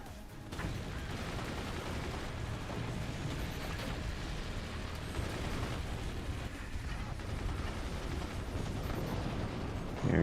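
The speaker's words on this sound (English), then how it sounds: "Here come the incendiary mortars again. Incendiary heavy mortars, I should say." Incendiary heavy mortars exploding in a video game battle, a dense, continuous rumble of blasts and debris that stays loud and even throughout, with no voices.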